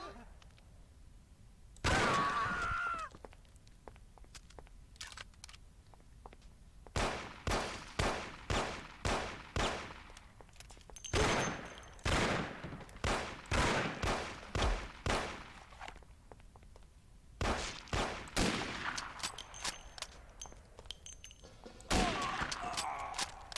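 Gunshots in the Mafia video game, a prison shootout: sharp single shots fired in rapid rhythmic volleys with short pauses between bursts, fairly loud, with occasional talking in between.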